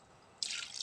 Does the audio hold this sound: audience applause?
no